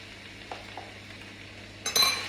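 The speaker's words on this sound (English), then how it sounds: "And our finely chopped bell pepper. Put that in. Good stir." Finely chopped bell pepper sizzles softly in a frying pan while a utensil stirs it, with a couple of light scrapes and then a brighter burst of sizzling near the end, close and alone without speech.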